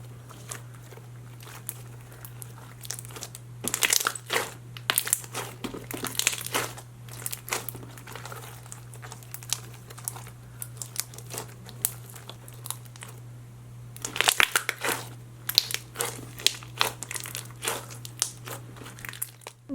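Crunchy slime with gold glitter, sweet-scented, squished and pressed by hand, giving close, repeated crackling and crinkling pops in uneven bursts over a low steady hum, with no talking.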